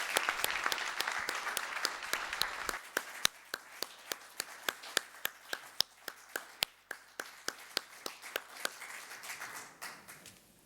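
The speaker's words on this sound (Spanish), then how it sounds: "Pido un último aplauso para Sebas." Audience applause thanking Sebas Agirretxe at the close of a talk on Eduardo Chillida, starting as a dense wash of clapping, then thinning to scattered individual claps that fade out near the end.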